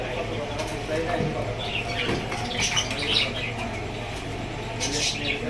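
Large original Indian Bombay pigeons flap their wings in repeated bursts, with soft cooing and chirps amid steady background noise and faint voices.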